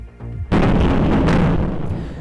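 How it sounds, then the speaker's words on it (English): A rocket strikes an apartment building in Kyiv: a sudden massive explosion after a brief low rumble, its heavy roar sustained and rolling on to the end. "The moment a rocket hit an apartment building in Ukraine's capital as explosions are reported across the city."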